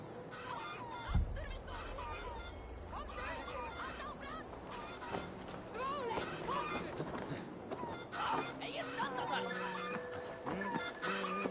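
Video game chickens cluck in a busy scene, the short pecking calls blending with in-game voices, shouting and background commotion.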